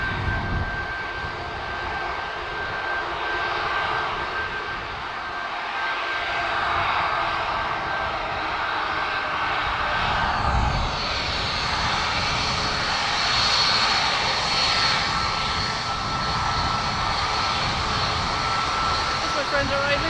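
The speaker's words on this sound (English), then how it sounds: "It is the Dreamliner in the background there by the looks of it." A Boeing 787 Dreamliner's jet engines at Dublin Airport produce a loud, sustained roar with a thin whining tone, steady across the span and swelling slightly midway, as people chat nearby.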